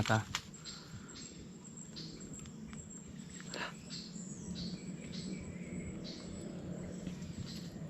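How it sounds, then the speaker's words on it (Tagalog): Wild birds call in a forest in late afternoon, scattered chirps and tweets rising over a constant hissing wash of insect and ambient noise, with a brief knock near the start. "ingay ng ibon"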